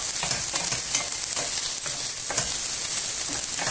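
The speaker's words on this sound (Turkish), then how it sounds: "Diğer havuçla biber malzememizi bırakalım. Bunlar da biraz kavrulsunlar." Carrots and peppers fry in olive oil in a pot, sizzling steadily and up close, with repeated stirring scrapes at a regular rhythm and no talking.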